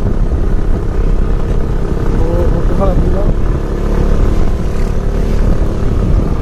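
Steady engine rumble of motorcycles on the new road to Kamakhya temple in Guwahati, Assam, continuous and fairly loud, with faint talk mixed in underneath.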